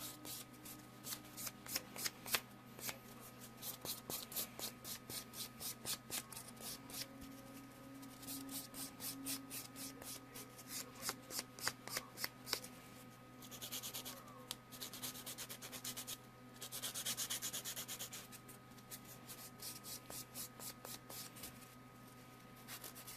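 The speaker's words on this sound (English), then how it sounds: "Mari Lascaris, do you sell the drill?" A pink electric nail drill files fingernails with a steady motor hum beneath rapid, rhythmic scratchy strokes that come in bursts, quiet and close, with no talk.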